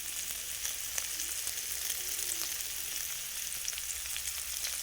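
Eggs fry in a little oil in a pan, giving a faint, steady sizzle with a few small crackles and pops, heard up close at low level with no one speaking.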